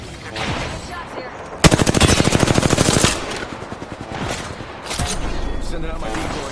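Automatic gunfire in the Apex Legends video game, with a rapid close burst of shots in the middle and scattered single shots around it, while a voice talks over the action.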